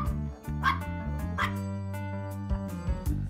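A dog in a French film trailer barks and yips repeatedly, with whimpering, close and loud over a steady musical bed.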